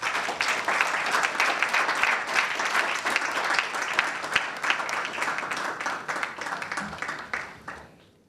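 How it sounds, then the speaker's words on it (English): A large audience at the launch of a national school competition applauds steadily to welcome a speaker, dense sustained clapping that holds for several seconds, then fades out at the end. "let's welcome with a round of applause the Managing Director of Primetime Limited, Mrs. Nanekia Ankoma Asare."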